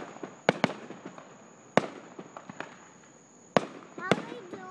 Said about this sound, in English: As long as they don't run out of fireworks.